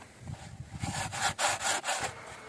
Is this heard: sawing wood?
yes